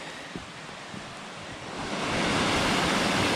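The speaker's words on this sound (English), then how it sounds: "We're at the first named waterfall on Falling Waters. This is Stairs Fall." Stairs Fall, a waterfall on the Falling Waters trail, rushes in a steady broadband roar that grows louder and fuller partway through, with no talking.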